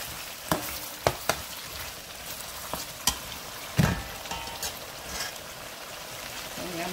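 Onions frying in a pan for macaroni with sausage, a soft, steady sizzle with a few sharp clicks and scrapes scattered through, fairly quiet and with no talking.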